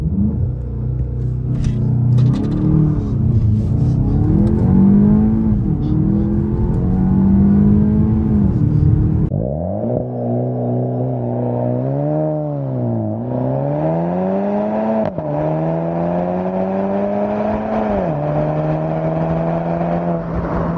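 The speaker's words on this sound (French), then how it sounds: "Les amis, on va faire un petit launch. ESP désactivé, on maintient le frein, on appuie sur l'accélérateur et après on lâche." A VW Golf 7 GTI Performance making a launch-control start, its engine droning at held revs before surging loudly through rising, gear-stepped acceleration sweeps, close and continuous.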